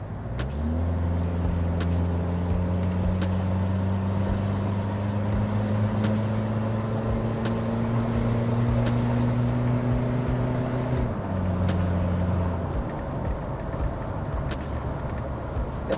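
An engine drones steadily inside a car on a test drive after ECU tuning. The pitch climbs slowly as it accelerates, then drops sharply at a gear change and holds low, with no one talking.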